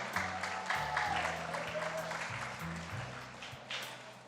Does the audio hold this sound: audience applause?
yes